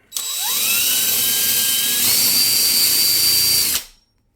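A power drill spins up sharply while drilling dowel holes in a kitchen cabinet, runs at a high steady whine for a few seconds, then cuts off abruptly, leaving silence.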